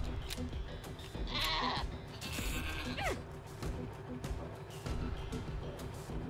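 A goat bleats in Wasteland 3 gameplay, a short wavering cry standing out over a busy bed of game music and effects, with a few mechanical clicks around it.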